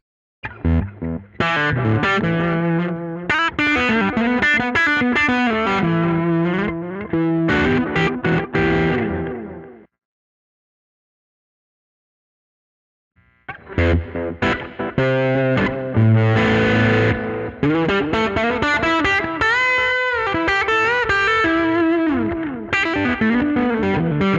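Electric guitar playing chords and riffs through reverb, delay and distortion effects in a GarageBand session, loud and continuous, with a few seconds of silence in the middle before playing resumes.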